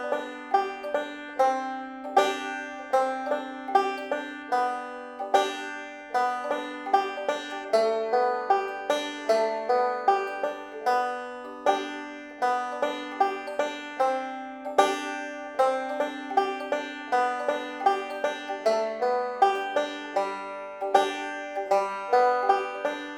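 A banjo plays Boil Them Cabbage Down with short rolls, a steady beginner-paced stream of bright plucked notes decaying quickly, close and alone.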